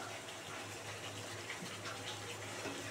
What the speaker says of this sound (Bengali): এবারে অল্প করে জল দিয়ে দেবো, মিক্সি ধোয়া জলটা দিয়ে দেবো।